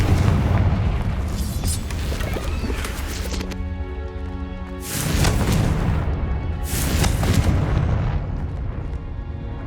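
Explosive blast from the Confringo spell in Hogwarts Legacy: a dense, loud booming rumble with sharp bursts around four and seven seconds, with heavy low-end roar throughout and no talk.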